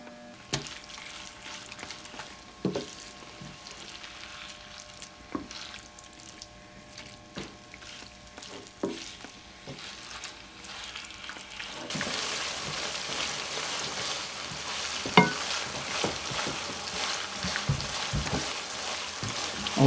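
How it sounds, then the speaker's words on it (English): Ground beef browns in a pan on the stove, a soft, steady sizzle and crackle of fat that grows louder and busier partway through, with occasional faint clicks and no talking. "it'll take just a few minutes for this to brown up"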